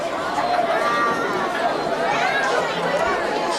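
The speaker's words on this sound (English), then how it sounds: "Big crowd, nice crowd here too from both sides." Crowd chatter from both sides of the stands at a senior-night high school football game between Madison and Pequannock, a steady babble of many voices with occasional louder calls.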